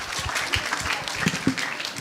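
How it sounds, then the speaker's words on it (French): Applause from an audience at a ciné-club gathering discussing a film, a brief steady patter of clapping with a few sharper claps standing out, moderately loud throughout. "applaudissez pour vous. Bravo."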